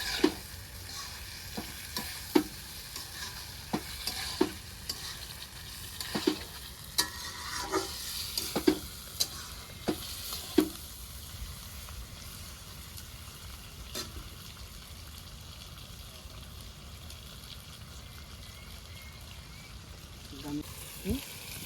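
Pork frying in a pan with bay leaf gives a steady sizzle, broken by repeated sharp scrapes and knocks of stirring, with a few more at the end.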